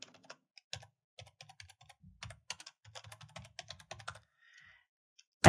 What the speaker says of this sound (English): I type my name.